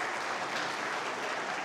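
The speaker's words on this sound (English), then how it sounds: "I should like to have a round of applause for this" A crowd at a South Asian Heritage celebration applauds in a brief, dense and even wash of clapping, fairly quiet and distant.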